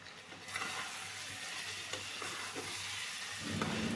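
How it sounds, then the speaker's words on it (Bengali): Meat sizzles softly in a pan with browned onion, turmeric and chili powder while a spoon stirs it steadily, with faint scraping taps over a quiet, continuous fry and no talking. "অনবরত নেড়ে চেড়ে মাংসটা খুব ভালোভাবে কষিয়ে নিতে হবে।"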